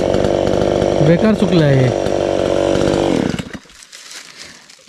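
Chainsaw roars close by while cutting an old, dried-out cashew tree, its pitch rising and bending under load, then cutting off abruptly. Someone speaks briefly over the noise.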